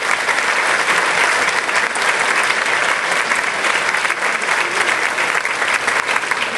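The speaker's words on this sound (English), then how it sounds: "Let's give them a big round of applause." A luncheon crowd delivers dense, continuous applause that stays loud and steady from start to finish, with no talking standing out.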